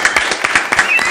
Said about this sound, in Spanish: aplausos, gritos y ovación en esta noche.